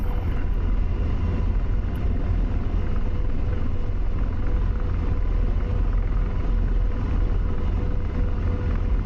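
AH-64 Apache attack helicopter in the DCS flight simulator rolling down a runway, giving a steady, loud, dense engine and rotor rumble with no break throughout.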